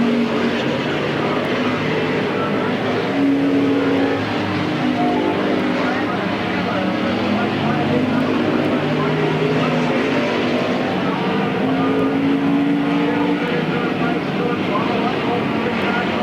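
Cars racing on a speedway oval at the Midvale Speedway Fall Classic, with a steady, loud drone of engines through lap traffic and passing cars adding rising and falling tones, a commentator talking over it throughout.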